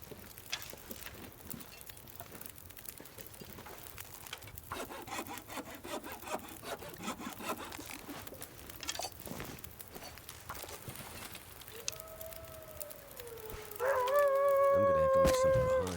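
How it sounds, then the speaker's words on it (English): Hacksaw cutting wood in a survival video game, a steady scraping rasp of repeated strokes at moderate level, ending in a louder burst with tonal game sounds. "I'm actually going to switch to the hacksaw for these ones"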